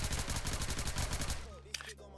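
Rapid automatic gunfire from a weapon in the Roblox game Chicago Remastered, a fast even stream of loud shots lasting over a second before stopping, with brief faint sounds afterward.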